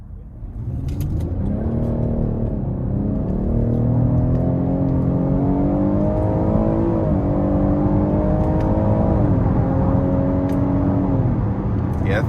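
A 2023 Cadillac XT6 Premium Luxury accelerating hard in Sport mode with paddle-shifted gears, engine pitch climbing in several steps with brief dips at each upshift, loud and steady inside the cabin.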